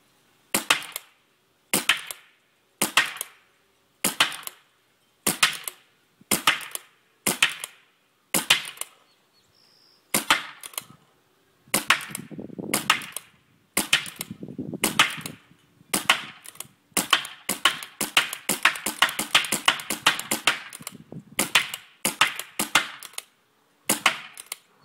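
Blue Works mini pump paintball marker firing about 50 rounds, sharp cracking shots spaced out at first and then coming in rapid close bursts, loud and near with no voices.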